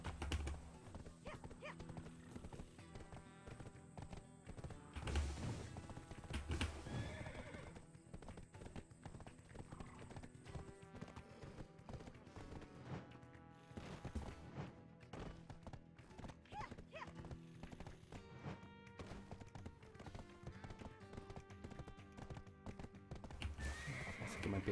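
A horse in the video game Black Desert neighs and whinnies while its hooves clip-clop steadily, close and clear over game music, with brief keyboard tapping.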